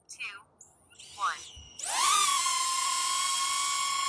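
A small camera drone, DJI Neo or Hover Air X1, spins up after brief voice commands, its propellers settling into a loud, steady high-pitched whine that holds close and constant.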